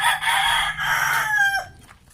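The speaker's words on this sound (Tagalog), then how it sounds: "May mga panabong ka man ng manok." A fighting rooster crows once, loud and close, in a strained, drawn-out call that rises and then cuts off, with low background noise beneath.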